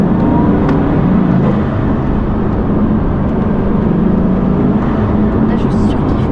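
A Bugatti Chiron with 1,500 horsepower drives along, a steady loud engine and road roar filling the cabin, with voices talking over it.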